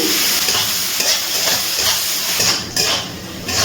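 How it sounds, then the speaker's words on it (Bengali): Finely chopped onions fry loudly in a pan for chicken masala, a dense, close sizzle with occasional stirring scrapes and utensil clinks, briefly dipping before carrying on. "এবারে পেঁয়াজটা ভেজে নিচ্ছি।"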